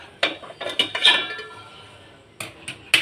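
A metal cooking pot is set down on a hard surface, with several sharp clanks and clinks in two bursts separated by a short pause, close and fairly loud, without talking.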